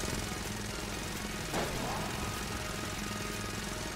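A drill weapon fires in the video game Enter the Gungeon, making a steady, loud, dense grinding roar that runs the whole time, with one brief swell near the middle.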